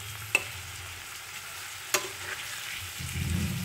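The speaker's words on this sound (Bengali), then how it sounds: "এখানে দেখো এগ ভুর্জির জন্য পেঁয়াজটা শ্যালো ফ্রাই হচ্ছে" Onions shallow frying in a pan for egg bhurji give a soft, steady sizzle, broken by two sharp clicks of stirring against the pan.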